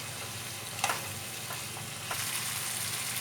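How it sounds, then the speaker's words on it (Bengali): Mutton for Bengali kosha mangsho fries in a pan with a soft, continuous sizzle, a few quick scraping stirs cutting through, close but fairly quiet and with no talking. "কষা মাংস, তাই মাংসটাকে খুব ভালো করে এবার কষাতে হবে।"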